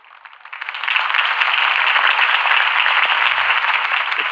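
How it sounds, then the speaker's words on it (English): Crowd applauding after a campaign speech in the Batman Telltale video game, swelling within the first second into steady, dense clapping that holds at full strength to the end. "If only Mr. Wayne, my campaign's largest backer, could have heard that applause"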